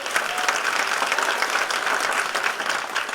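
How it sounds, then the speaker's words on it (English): Debate audience at the 2015 Port Moody-Coquitlam federal candidates' debate bursts into dense, even applause, many hands clapping together at fairly loud level throughout without a break. "You can applaud now."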